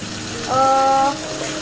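Garlic sizzles as it hits hot cooking oil in a pan while fried kwetiau is being made. A steady, close frying hiss swells briefly, with a faint tonal squeal in the middle.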